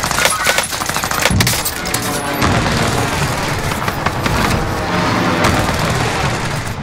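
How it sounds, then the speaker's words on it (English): An allied precision airstrike lands in Warzone Rebirth, a dense loud barrage of booming explosions and crackling impacts rolling on for several seconds, mixed with gunfire. "Allied precision airstrike incoming."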